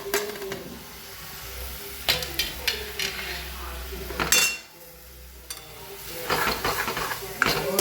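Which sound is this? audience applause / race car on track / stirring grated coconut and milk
stirring grated coconut and milk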